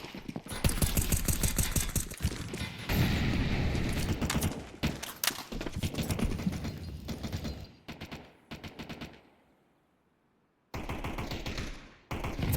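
Rapid bursts of AK rifle fire in a Counter-Strike 2 esports match, loud dense volleys with short gaps and a brief silent pause before the shooting resumes.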